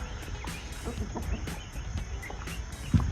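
A flock of chickens mills about in a coop yard, giving a steady bed of low clucks and rustling at moderate distance, with one brief louder burst near the end.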